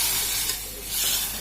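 Molokhia goes into a pot of hot broth with butter, raising a loud, close, steady hiss and sizzle with a rushing steam-like quality and no voices.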